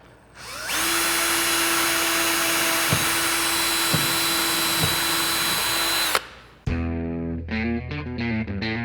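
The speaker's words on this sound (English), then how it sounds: "drill another hole right here to where one of the number 8 pan head screws is going to" A power drill bores a hole through a boat rub rail end cap for a number 8 pan head screw, with a loud, steady whine lasting several seconds before it stops. Sharp clicking tones follow.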